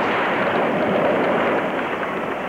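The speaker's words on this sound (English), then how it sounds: "a thunderous series of explosions destroyed this chemical plant operated by Pepcon" A thunderous series of explosions at the Pepcon ammonium perchlorate chemical plant makes a continuous, dense, roaring rumble that holds steady and loud throughout with no pauses.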